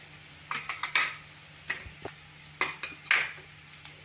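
A metal spoon scrapes and clinks against a pot in a run of irregular, close strokes, with short pauses and no voices.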